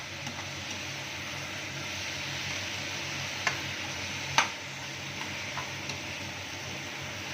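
Chilli prawn preparation sizzling steadily in a pan, a soft even frying hiss with a few faint clicks and one sharper tap partway through, no voices.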